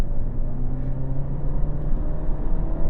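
A 2025 Alfa Romeo Giulia with an Italian-built engine accelerates through a turn, its steady engine hum and whir heard from inside the cabin, smooth and continuous without talk.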